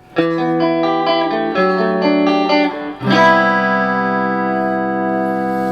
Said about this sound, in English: this is what a Strat sounds like with just the reverb,